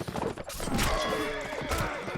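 Horse neighs amid a medieval melee video game battle, a loud whinny over busy clashing combat noise and a dense backdrop of fighting, with a second cry toward the end.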